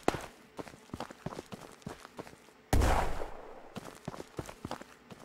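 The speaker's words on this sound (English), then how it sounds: "That was a cool little explosion." A grenade goes off in the video game Ghosts of Tabor: one sudden, loud blast with a low boom and a rough tail, between light footstep-like clicks and soft shuffling before and after.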